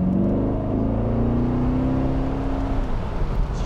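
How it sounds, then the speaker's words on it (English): A 2014 C7 Corvette with a 455-horsepower engine growls steadily while cruising, a loud, close, continuous low rumble whose pitch slowly rises and then settles. "that 455 horses under there, they're growling"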